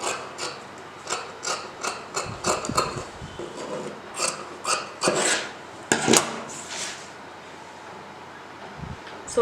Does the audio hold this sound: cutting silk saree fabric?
yes